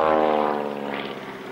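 A vintage Harvard trainer with a 450 Wasp radial engine flies past at an airshow, its loud, steady propeller drone sustained and gradually fading as it moves away.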